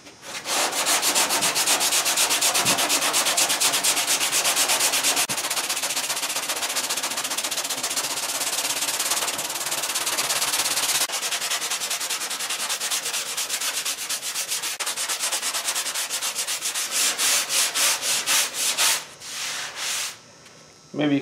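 A sanding block works body filler along a car fender near a subtle body line, producing a loud, continuous close-up rasp of rapid back-and-forth strokes that quickens into short separate bursts near the end, with no talking.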